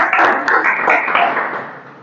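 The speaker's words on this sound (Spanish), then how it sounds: "recibamos con un aplauso a Álvaro" Brief audience clapping greeting a guest speaker at a lecture event, a short burst of applause that fades quickly.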